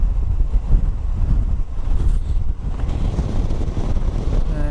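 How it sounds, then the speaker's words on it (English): Strong wind buffets the microphone while riding a motorbike out of Rhosneigr on Anglesey, a loud, continuous low roar with no talking. "You can sort of tell with the wind now, can't you?"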